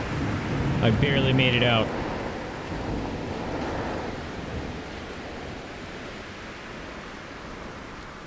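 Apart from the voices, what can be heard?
thunderstorm in the video game No Man's Sky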